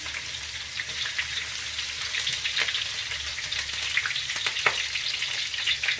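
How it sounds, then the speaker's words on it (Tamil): Chopped ginger and garlic fry in oil with cloves, cumin and fennel for a crab curry, giving a dense close sizzle with soft stirring clicks, steady and unbroken, no speech. "வெட்டி வச்சுருந்த இஞ்சி பூண்டு போட்டுக்கோங்க"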